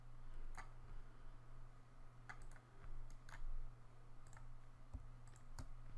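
A computer mouse clicks sharply and close, in scattered single and double clicks over a low steady hum.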